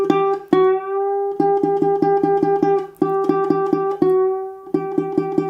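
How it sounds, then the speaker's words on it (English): A plucked nylon-string ukulele repeats short notes, and a few held notes bend a half step upward in pitch; there is no talking. "This is a half step bend."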